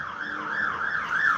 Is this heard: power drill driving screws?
no